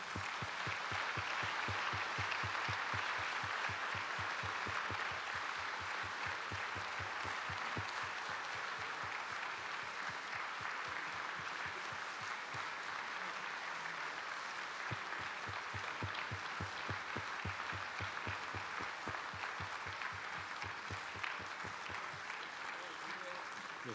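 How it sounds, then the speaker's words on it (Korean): Audience at a church general assembly session stands and applauds to welcome five former vice moderators, a steady, dense clapping sustained for the whole stretch with faint voices mixed in and a rhythmic low thumping underneath. "우리 인사드릴 때 다 같이 일어나셔서 뜨거운 박수로 환영하겠습니다"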